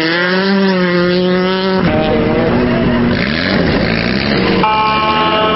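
Off-road tubular buggies race on dirt hills at an extreme sports event in Tacna, their engines roaring and shifting pitch in sustained, loud revving, with several vehicles overlapping and a crowd murmuring underneath.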